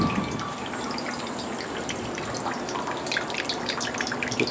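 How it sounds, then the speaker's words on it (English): Water running and splashing as it passes through a filter on a home-brewing brew day, a steady moderate trickle with scattered drips, fairly close and without talk. "we are filtering water."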